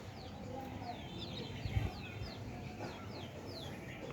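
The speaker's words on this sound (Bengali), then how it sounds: "এ হচ্ছে দেশি মুরগির বাচ্চা" Repeated high, thin peeps from small native (deshi) chicken chicks chirp in quick bursts over a low background murmur, fairly close.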